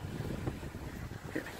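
Wind buffets the microphone outdoors in cold, windy Westminster with a low, rumbling roar that gusts unevenly throughout.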